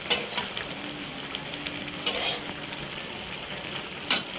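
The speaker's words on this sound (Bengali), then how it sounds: "খুন্তি দিয়ে তোলো ফুলকপিটা, খুন্তি দিয়ে তোলো, গরম লাগবে হাতে তোমার" Cauliflower frying in a pan as it is turned with a spatula, a steady sizzle under occasional sharp metal scrapes and clinks of the utensil against the pan, close by with no talk.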